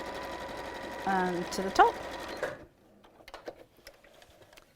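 A sewing machine stitches the seams of a pleated bag in one close, steady run lasting a couple of seconds and then stops, followed by quiet handling noises and a short spoken remark.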